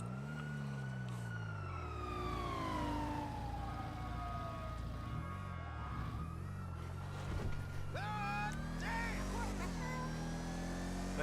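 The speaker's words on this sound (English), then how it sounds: "There you go with sirens on too" Police car sirens wail and sweep in pitch over steady engine rumble in the video game Grand Theft Auto V, continuous and fairly close throughout, with brief chirping tones near the end.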